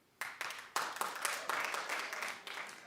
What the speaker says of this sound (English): Clap if you'd watch the Britney.